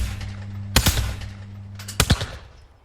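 Two shotgun blasts at clay targets in an Olympic shooting video game, each a sharp broadband crack with a short decaying tail, over a steady low hum.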